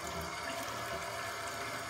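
Steady stream of warm water rinsing a Harley Davidson Screaming Eagle air filter, a continuous, even rushing and splashing with no talking.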